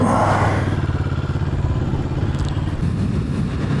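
A 2025 Moto Morini Calibro motorcycle engine runs close by with a steady, loud, throbbing mid-range rumble and a faint clatter, lasting about four seconds with no talk.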